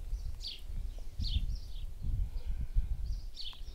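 Birds sing outdoors during a slow-paced yoga session, with short, high chirps recurring every second or so, faint and distant over a soft low rumble of wind or rustling.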